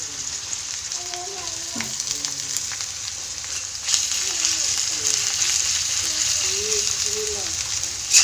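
Onions browning in a pan with crushed ginger and garlic added give a steady, close sizzle and hiss, with a faint voice speaking over it.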